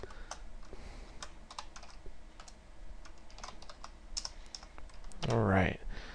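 Rapid, uneven computer keyboard typing with sharp clicks throughout, fairly quiet and close, while coding, ending with a brief burst of louder sound.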